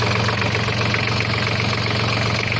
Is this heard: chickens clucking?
no